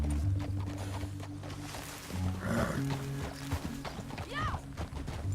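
Horse hooves clip-clop at a steady pace in Red Dead Redemption 2, mixed low under game music and ambient sounds, with a brief whinny-like call near the end.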